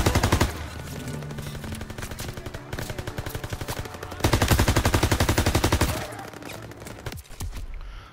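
Rapid shotgun blasts and bursts of gunfire in the World War II shooter Call of Duty WW2, loud and close, with dense overlapping volleys that swell and ease across the stretch, no voices heard.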